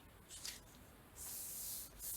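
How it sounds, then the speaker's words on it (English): A spray bottle mists sheets of tea- or coffee-dyed paper, giving short close hissing bursts, one quick and then a longer sustained spray near the end, in a quiet room. "I go over and spray it"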